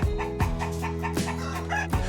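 Free-range chickens on a large farm flock of 70,000 birds cluck loudly and close, with repeated harmonic clucks and calls overlapping in a lively, busy rhythm.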